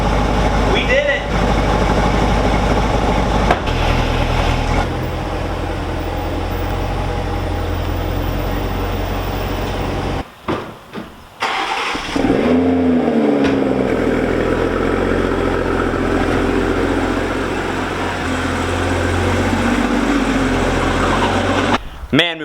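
A Toyota Supra's engine idles and revs in a garage while the car is shifted past a couch, a steady rumble with a couple of brief rises and drops, and people talk over it.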